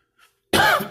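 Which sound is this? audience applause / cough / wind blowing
cough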